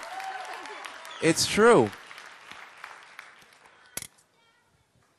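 Audience applause mixes with talking voices and a brief rising whoop, then tapers off to near silence.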